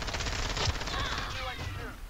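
Rapid automatic gunfire from Call of Duty Warzone gameplay rattles on continuously in a dense burst of shots, with players' voices talking over it.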